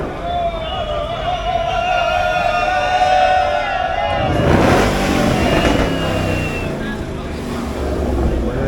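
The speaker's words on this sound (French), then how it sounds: "Ah, il y a une Mustang qui arrive" Ford Mustang arriving near the Le Mans circuit during the 24 Hours centenary festivities, a whining engine tone that gives way halfway to a louder, rougher rev swelling close by, with people talking beneath it.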